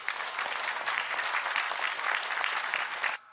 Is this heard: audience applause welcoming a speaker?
yes